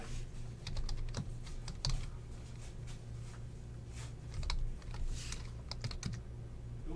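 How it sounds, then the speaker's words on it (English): A computer keyboard is typed on in quick, irregular bursts of soft clicks and taps, close and fairly quiet, with no voices. "Give me a few moments to type things."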